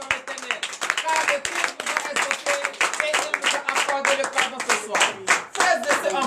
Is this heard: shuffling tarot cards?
no